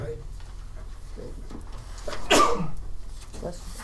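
A single sharp sneeze bursts out amid a quiet planning board meeting room where people talk in low voices before and after.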